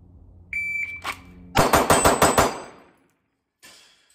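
A shot-timer beep, then a rapid string of six loud pistol shots from a Staccato C2 fitted with a Genghis compensator, each crack followed by a brief ring and ending in quiet, with a faint later sound.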